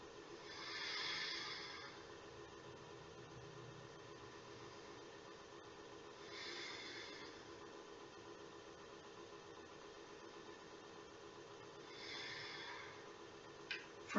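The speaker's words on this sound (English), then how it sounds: "We'll take 3 breaths here." Slow, steady breathing during a seated chair yoga session, with three soft, drawn-out breaths spaced several seconds apart over a quiet background hiss.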